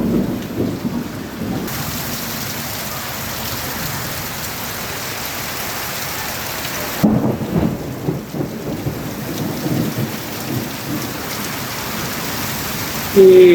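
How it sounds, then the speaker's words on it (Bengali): Heavy monsoon downpour roars steadily with deep rolling thunder, the rain hiss continuous and close, swelling into a louder burst of rain and rumble about halfway through, with no voices. "দেখতে পাচ্ছেন যে হারে বৃষ্টি হচ্ছে"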